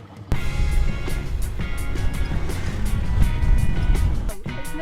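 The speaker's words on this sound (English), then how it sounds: "An auto rickshaw in El Salvador." Auto rickshaw (tuk-tuk) driving on a road in El Salvador, a steady close engine drone with rumbling low end and some wind, continuous throughout after a brief quiet start.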